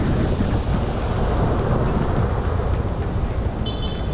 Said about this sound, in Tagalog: malakas naman yung hangin.